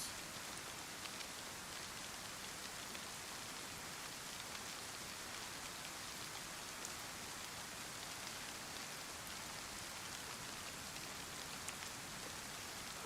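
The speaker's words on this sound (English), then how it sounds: "You hear that rain?" Steady rain falls continuously on a surface, a dense even hiss with fine patter that stays the same loudness throughout, with no voices or other sounds.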